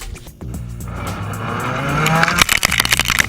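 A Ford Fiesta two-wheel-drive rally car launches onto a stage at the Sharjah Rally, engine revving hard as tyres squeal and scrabble on loose ground, growing louder, then rapid choppy bursts as it pulls away.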